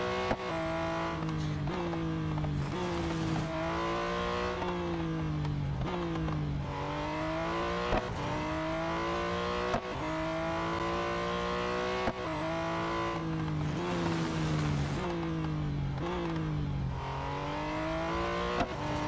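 A race car in the video game Real Racing 3 accelerating hard without braking, a loud continuous engine whine climbing through the revs and dropping at gear shifts, repeated several times, steady and close.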